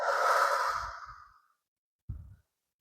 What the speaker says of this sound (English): Take a slow breath in and let it go.